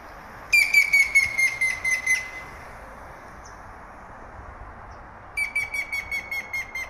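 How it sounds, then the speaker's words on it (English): A wild bird sings in a Cheonan forest, two bursts of rapid, evenly spaced high chirps about five seconds apart, clear and fairly close against a quiet hissing background. "Oh, that's the real bird."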